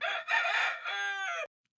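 A rooster crows one full cock-a-doodle-doo, loud and close, with a rising opening and a long drawn-out tail that cuts off abruptly, followed by silence.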